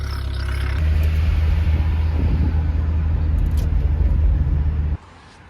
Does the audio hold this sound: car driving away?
yes